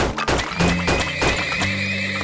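Horses in a video game whinny and neigh repeatedly, loud and close, with a few hoof clip-clops under the calls and no talk.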